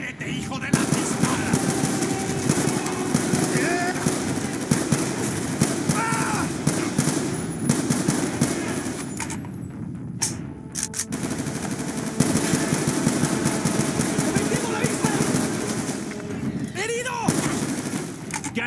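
Rapid bursts of automatic gunfire crackle repeatedly through a busy, noisy scene in the video game Chronicle of War, with a short lull midway before the shooting resumes.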